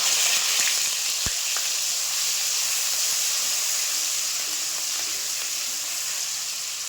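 Garlic paste and whole spices (cardamom, cloves, cinnamon) frying in hot oil for a duck and potato curry, a loud, steady close sizzle and hiss with a sharp pop near the start, fading slightly toward the end.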